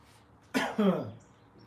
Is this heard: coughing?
yes